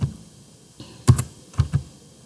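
Keystrokes on a computer keyboard, a few scattered clicks then two short bursts, close and fairly clear with no talking.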